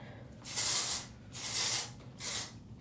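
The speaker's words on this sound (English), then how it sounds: "It's a texture spray to finish it." Three bursts of hair texture spray from an aerosol can, each hissing for about half a second, close and fairly loud, with brief pauses between.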